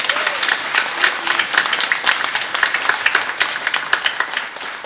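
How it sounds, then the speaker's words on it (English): An audience at a community membership meeting claps for the moderators, dense steady applause from a crowd of many hands, sustained throughout and fairly loud in the room. "maybe we can give another round of applause, this time not just to the panelists, but to our two moderators"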